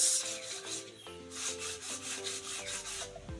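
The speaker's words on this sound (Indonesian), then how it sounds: "penghalusan, kita amplas dulu Mas Bro" A bamboo fishing rod is rubbed with no. 80 sandpaper in quick, regular back-and-forth strokes, each rasping pass close and clear, with a tonal musical background underneath.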